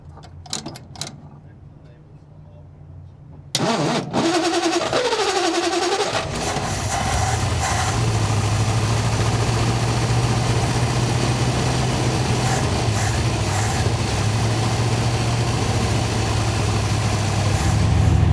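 A 1953 Studebaker engine cranks, catches and revs after a quiet start, then settles into a steady, rumbling idle that runs to the end.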